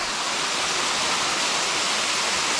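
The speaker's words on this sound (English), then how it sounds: "This is a cascade, pretty much in the position where I picked my first" A wide cascade on Purragulli Creek roars steadily, a dense, even rush of falling water heard close and loud throughout with no voices.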